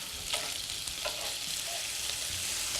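Lobster pieces sizzling in a hot pan as they are flipped, a steady close hiss of frying with a few soft clicks of turning, no voices.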